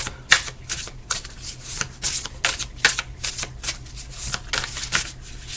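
Tarot cards shuffled by hand during a reading, a rapid series of crisp riffling bursts and slaps repeating in an irregular rhythm, close and clear with no talking.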